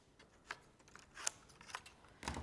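Scissors snip through craft card, several sharp crisp cuts spaced irregularly and close, with light handling rustle between them and no talking.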